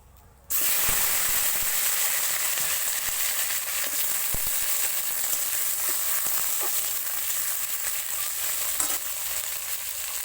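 A fish head drops into hot oil with panch phoron, dried red chili and bay leaf, setting off a sudden loud, sustained sizzle and hiss that holds steady and close, with faint clicks of the pan.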